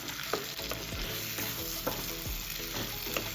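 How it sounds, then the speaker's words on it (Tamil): Brinjal pieces frying with masala in a pan, a close, steady sizzle broken by repeated scraping strokes of a spatula stirring the mixture, with no one speaking. "கத்திரிக்காயை சேர்த்துடலாம் நல்லா மசாலாவோடு சேர்த்து மிக்ஸ் பண்ணி விட்டு"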